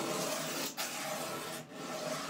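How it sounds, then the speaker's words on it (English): A scraper shaves the wooden neck of a Harmony Monterey archtop guitar to reshape its contour, making a continuous close rasp that pauses for two brief breaks as the blade lifts. "So a lot of scraping to do still."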